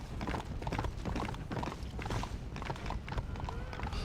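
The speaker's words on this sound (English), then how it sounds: "It's like Rick Grimes going into town here on his horse." Horse hooves clip-clop at a steady, brisk rhythm as a rider heads into town in Red Dead Redemption: Undead Nightmare, the hoofbeats close and dense over a busy game backdrop.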